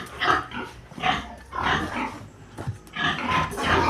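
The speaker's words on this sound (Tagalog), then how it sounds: "Magpapakain po muna ako ng aming kaisa-isang biik." A single piglet grunts and squeals repeatedly at feeding time, close and fairly loud, in a steady run of short, rough calls with no talk over them.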